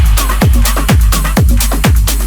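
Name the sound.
processed four-to-the-floor bass line with glue compressor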